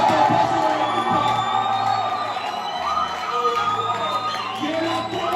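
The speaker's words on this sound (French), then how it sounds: "Que les gens poussent des cris." A church congregation at a fervent service shouts and cries out together, a loud, continuous crowd roar of overlapping voices and whoops.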